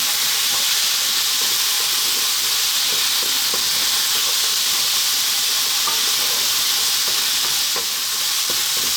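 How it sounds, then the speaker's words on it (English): Garlic ginger paste sizzles loudly in a hot pan over high heat, a dense continuous hiss broken by soft scraping strokes as it is stirred steadily. "we're now going to add in our garlic ginger paste. And again, on this high heat, 2 more minutes."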